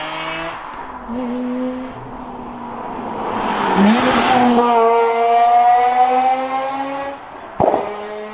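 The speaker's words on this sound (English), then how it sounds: "When the exhaust gets hot as well, between shifts, sometimes it'll go bah!" Mazda RX-8 with a bridge-ported rotary engine revving hard, pitch climbing through gears with brief breaks between shifts and a sharp exhaust pop near the end, loud and close.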